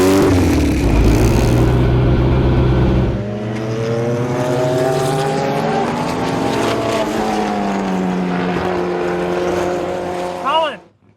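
Penske No. 6 Mark Donohue Javelin race car at Laguna Seca during the Rolex Reunion, its engine droning loudly and steadily with the pitch rising and falling, then cutting off abruptly at the end, with faint voices underneath.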